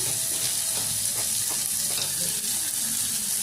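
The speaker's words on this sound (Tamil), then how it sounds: "இப்போ வெங்காயம், தக்காளி நல்லா வதங்கிட்டோம்." Onion and tomato sautéing in a pan for coriander chutney, a steady, loud, close sizzling hiss with faint stirring scrapes throughout.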